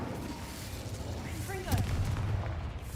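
A fire spell cast in the Hogwarts Legacy video game sends out a low rumbling whoosh that swells into a deep booming burst midway, over steady game ambience.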